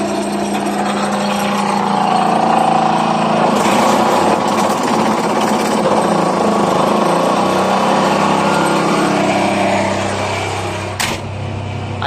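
A backhoe-mounted vibro hammer drives steel sheet pile into very hard ground, giving a loud, steady mechanical roar and rattle that runs continuously with slight shifts in pitch and a brief dip near the end.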